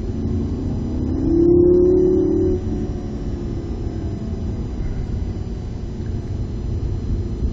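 A Lamborghini Gallardo on the Viterbo track at full throttle, its engine note climbing in a loud, sustained rev that swells briefly and then holds a steady, close, powerful roar.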